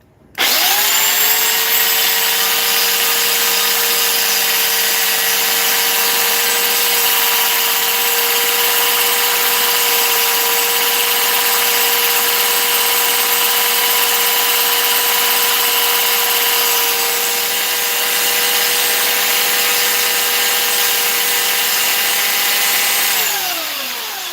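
An old masonry chisel is ground on an abrasive grit wheel in one long, loud, steady pass with a sustained whining tone, close and continuous for about twenty-four seconds before the noise cuts off.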